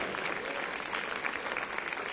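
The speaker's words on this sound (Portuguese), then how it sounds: "Aplauda o Senhor nesta hora" A church congregation applauds together during a sermon, a continuous, even wash of many hands clapping at moderate volume, with no voices over it.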